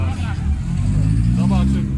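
A V8 car engine exhaust at a car meet rumbles with a steady, loud low-pitched drone throughout, with a crowd of people talking in the background.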